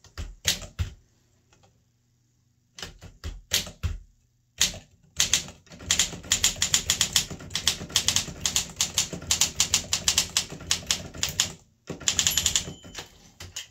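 Keys clack rapidly on an Olympia SM3 or SM4 manual typewriter, crisp close strikes running in dense bursts separated by brief pauses and a carriage-like thunk.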